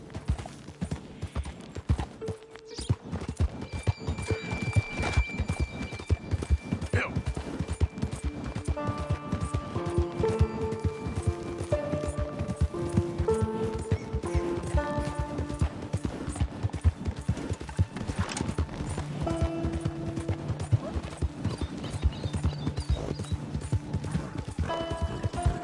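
Hooves clip-clop steadily and continuously at a brisk walking pace, fairly close, with music playing underneath.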